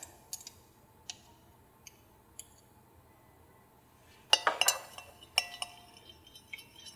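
A utensil stirs jojoba oil and vitamin E into a pumpkin spice coffee scrub bar mixture, giving faint, scattered clinks and ticks against a container, with a brief busier cluster of scraping taps midway.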